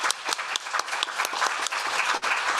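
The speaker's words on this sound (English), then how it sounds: "let's give him a round of applause to start" A crowd at a Hunter College conversation event applauds to welcome a New York congressman. The clapping is brisk and close, with individual claps audible within a lively continuous wash and a brief dip near the end.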